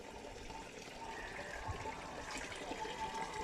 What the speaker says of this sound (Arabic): بفتح لهم الحنفيه كده يقوموا رايحين مستحمين فيها